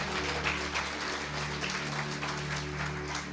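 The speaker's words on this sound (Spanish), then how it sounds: "Dale un fuerte aplauso" A church congregation breaks into applause, a dense continuous wash of clapping hands that stays fairly even and moderately loud for a few seconds, with no clear speech over it.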